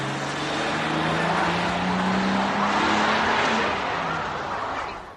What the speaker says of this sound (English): the car sped off